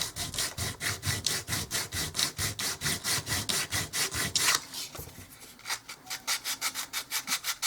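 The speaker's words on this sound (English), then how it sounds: "Actually, I can do a little sanding here, get that squared up." Rhythmic back-and-forth strokes of sandpaper on a small wooden dollhouse miniature door, steady rasping close up that slows and thins out toward the end.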